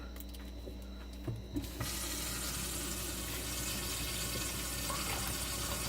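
Water rushes from a hose under a faucet, turning on after a few faint clicks and then running as a steady, even hiss of flow with no one talking.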